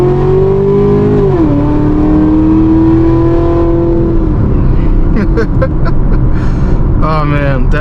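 A Camaro ZL1 fitted with long tube headers accelerates hard at wide open throttle, its engine roaring with a rising then steady pitch before a gear change, loud inside the car, with someone talking near the end.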